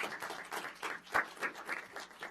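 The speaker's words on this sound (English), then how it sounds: "give Jeff and the City of Sherwood a round of applause" Scattered applause from a small audience at a Sherwood city council meeting, a few faint, uneven claps spread across the moment rather than a full ovation.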